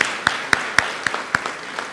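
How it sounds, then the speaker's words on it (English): Audience at a West Virginia State University campaign announcement applauds the student body president, a short patter of distinct hand claps in a fairly small, close group. "Let's give her a round of applause."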